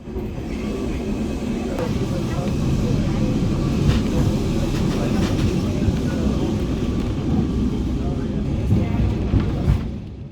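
Lisbon's tram 28 rumbles along with a steady low rattling drone of wheels and carriage, continuous and close, with faint clanks and a louder swell near the end.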